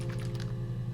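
A quick run of light, close computer clicks taps out in an irregular rhythm over a steady low background hum.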